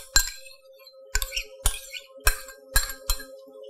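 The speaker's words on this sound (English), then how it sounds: "We're going to go ahead and stir this up, break those yolks up." A whisk or spoon clinks sharply against a glass bowl while five egg yolks are stirred into sugar for pastry cream, six distinct close taps at uneven intervals over a faint steady hum.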